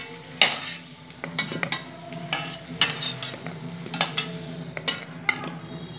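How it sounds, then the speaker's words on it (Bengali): Potatoes fry red in oil while a utensil stirs and scrapes the pan, sharp irregular clatters over a soft sizzle, close and moderately loud, no voices. "লাল করে আমি আলুগুলো ভেজে এখন নামিয়ে রাখছি।"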